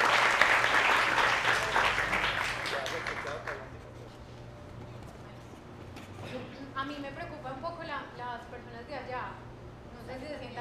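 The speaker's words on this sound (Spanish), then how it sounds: "un aplauso para acá" Audience applause after a talk on creative writing, loud and dense at first, then thinning out over several seconds as talk and murmuring rise underneath.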